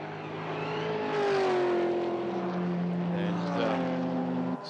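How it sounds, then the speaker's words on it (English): Heavy four-door saloon race cars, including an HSV, accelerate up the hill at Sandown with loud, rising engine notes that shift pitch as they pass, under a commentator's voice. "And storming up the hill, the Cachet Homes Mobile 1 car of Nathan Cal"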